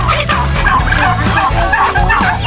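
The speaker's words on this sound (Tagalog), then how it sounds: "Pato, babo, at manok." Loud, dense farmyard poultry noise from ducks and chickens, with overlapping gobbling, clucking and quacking calls all around, continuous and close.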